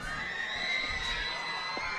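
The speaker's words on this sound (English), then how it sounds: "Lots of screaming over there on the Elkmont sidelines." Crowd on the sidelines of a high school football game screaming and cheering continuously, a loud, dense wash of shrill young voices with no pauses.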